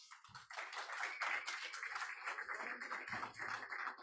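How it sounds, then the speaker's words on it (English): Conference audience applauding a speaker being introduced at a security event, steady dense clapping that fills the whole moment at a moderate distance, with no talk over it. "And if you guys give a good applause for TJ Patterson."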